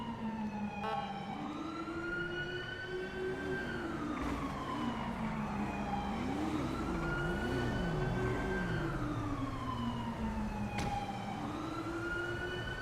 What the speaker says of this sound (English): All I'm hearing is sirens.